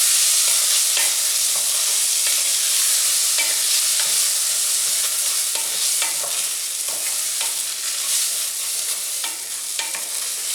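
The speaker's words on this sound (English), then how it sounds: "In goes the rinsed rice. And I'm going to stir it" Rinsed rice stirred in about a tablespoon of hot olive oil in a pan, a steady bright sizzle with scraping spoon strokes throughout, close and continuous without talk.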